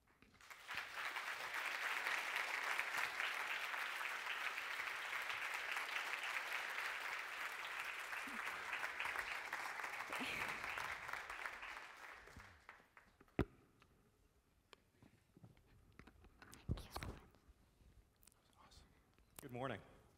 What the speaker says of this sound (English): let's give another round of applause for Selina Leem